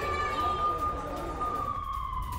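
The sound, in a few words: siren sounding in Tel Aviv during Israel-Hamas war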